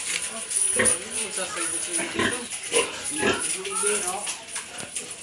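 Pigs, including sows, grunting and squealing at close range in a pen on a pig farm, with people talking over them throughout.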